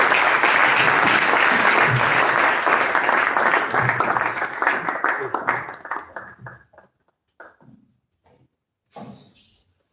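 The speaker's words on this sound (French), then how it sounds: "Sous vos applaudissements chaleureux," Warm applause from an audience in an amphitheatre, a dense wash of many hands clapping that fades away over several seconds, then scattered claps and a brief final burst.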